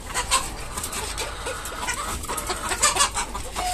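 Hill chickens on a small farm cluck close by, some of the hens weakened from laying. Their busy, overlapping clucks and calls carry on without pause, fairly loud and with no one speaking.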